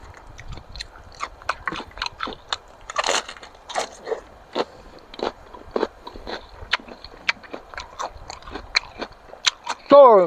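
Crunchy bites and chewing of Isan sausage eaten with assorted fresh vegetables, close and loud, with rapid irregular crunches and smacking, while a voice murmurs briefly near the end.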